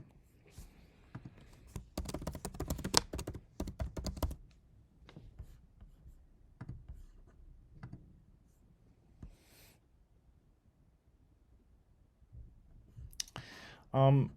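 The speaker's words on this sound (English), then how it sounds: "So I'm going to go ahead and click save here." Computer mouse clicks while saving an invoice, heard as scattered sharp clicks and taps, clustered early and then sparser, quiet and close, with a brief voice at the very end.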